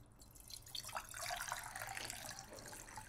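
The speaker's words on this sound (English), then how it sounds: "Water in the vase." Water runs into a flower vase during a flower arrangement, a steady liquid splash and trickle that grows fuller after the first second, heard close with no talking.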